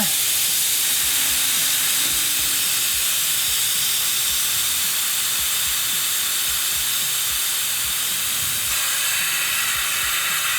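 Air hisses steadily and loudly out of an off-road tire on a Teraflex Nomad wheel through a fully opened valve, a continuous close-up rush with no talking.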